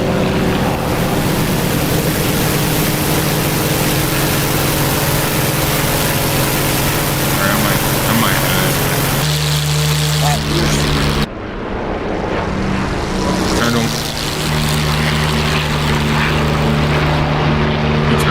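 Propeller aircraft engine in the flight simulator game DCS roaring back to life, a loud steady droning hum that dips briefly then surges again, with a voice talking over it.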